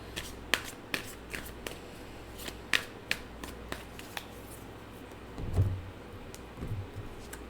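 A deck of tarot cards being shuffled by hand, heard as a run of sharp riffling snaps and flicks up close, then a few softer rustles, with no speech.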